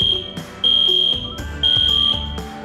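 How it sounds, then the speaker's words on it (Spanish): A loud, piercing high electronic alarm tone sounding in two long blasts over a background of music, close and insistent. "Durante una emergencia, escucharás esta alarma"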